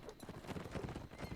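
A cavalry horse gallops during melee combat in the video game Mount and Blade Warband. Its hooves clatter in a rough rhythm that sounds faint and distant under a broad wash of battle noise.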